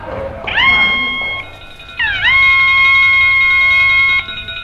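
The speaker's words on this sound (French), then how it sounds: "Allez, vite, donnez l'alarme!" An alarm blares at a military base after a spy escapes, two long loud wailing tones that rise and then hold steady, the second one running for about two seconds.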